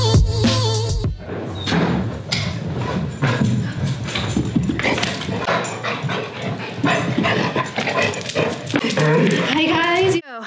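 Dogs bark and whimper nearby in short bursts, mixed with thumps and a person talking over them.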